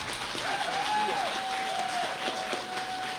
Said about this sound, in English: Another big round of applause for Sam Petzonk for emceeing this event.